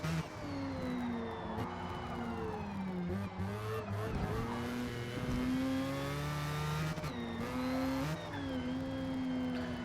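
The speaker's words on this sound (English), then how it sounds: "You can listen to that supercharger go. Absolutely gorgeous noise." A supercharged race car in a racing video game screams through the gears, a loud whining engine with rising and falling revs, brief tire squeals and shifts, close and continuous with no talk.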